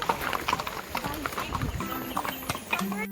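Horse hooves clip-clop at a steady walking pace during a horseback ride on the hill-station trails of Matheran, close by, with people talking over the hoofbeats.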